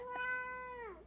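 Domestic cat giving a single drawn-out meow that falls in pitch at the end, close and fairly clear.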